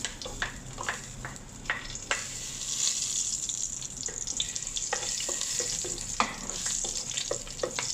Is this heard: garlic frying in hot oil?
yes